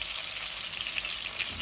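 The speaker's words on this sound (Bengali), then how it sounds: "এই যে আমার আলুগুলা ভাজা ভাজা ওই যাক" Potatoes frying in oil in a home kitchen for dal, a steady dense sizzle and crackle with no voices.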